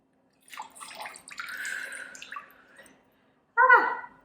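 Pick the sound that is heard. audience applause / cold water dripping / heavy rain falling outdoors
cold water dripping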